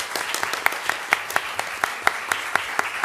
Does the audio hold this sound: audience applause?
yes